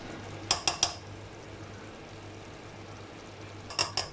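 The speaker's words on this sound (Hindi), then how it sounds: "2 table spoon tomato paste add कर दिया मैंने, और इसे मिक्स कर लेंगे।" A spoon scrapes and clinks against a pot while tomato paste is stirred into mutton kabsa, with a quick cluster of three metallic knocks followed after a pause by another three, over a low steady hiss.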